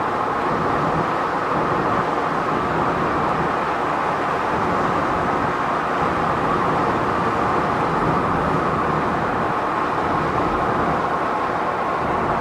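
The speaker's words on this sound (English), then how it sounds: "We're on the same section of road doing 55 miles an hour." Steady, loud road roar fills the cabin of a Jeep Gladiator on 37-inch wheels cruising at 55 mph, a constant broadband rumble and hiss with no letup and no voices.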